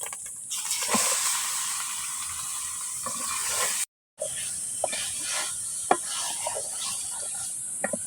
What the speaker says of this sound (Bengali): এখন আমি এই কষানো মাংসের ভিতরে, মশলার ভিতরে এখন মাংসটা দিয়ে দেবো।